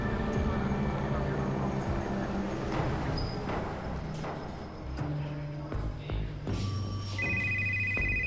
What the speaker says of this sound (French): Le téléphone sonne au commissariat de Watertown.